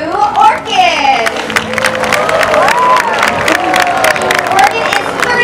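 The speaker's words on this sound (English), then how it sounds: "Let's give a big round of applause to Orkid." A crowd at a SeaWorld San Diego orca show claps and cheers, with children's voices and whistles rising over the applause; the noise is loud and sustained, and an announcer's voice runs through it.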